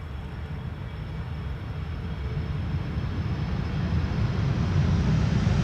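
A KLM Airbus A330-300 arriving at Schiphol's Polderbaan runway 18R, heard as a steady, broad jet roar that slowly grows louder as the aircraft approaches, with no voices over it.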